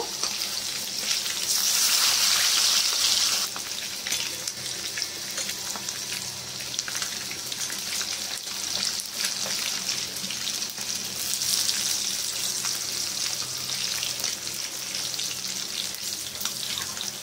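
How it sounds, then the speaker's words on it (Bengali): Pieces of large rohu fish fry in oil dusted with turmeric, giving a steady close sizzle that swells loud for the first few seconds and again around the middle, with faint scraping beneath. "তো এই মাছগুলো খুব বেশি লাল করে ভাজবো না, মাছের টক করব।"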